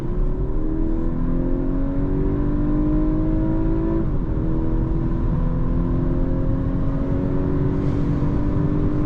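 A 2024 Audi A5 Sportback 45 TFSI with 265 hp accelerates hard, its engine note climbing steadily, briefly dropping at a quick gear change, then rising again, loud and continuous with no talking.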